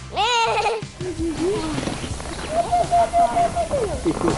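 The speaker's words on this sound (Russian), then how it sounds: "Баранов здесь всего два, остальные – овцы и козы." Sheep and goats bleat loudly several times in the petting corner of an ethnographic museum, with people talking nearby between the calls.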